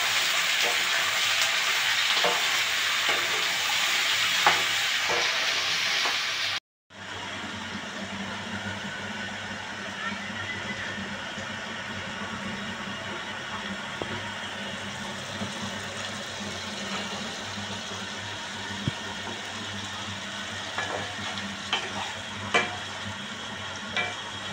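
Ridge gourd and a couple of small potatoes fry in a pan with a loud, crackling sizzle. After an abrupt cut, a quieter, steady sizzle continues with occasional stirring clinks and no voices.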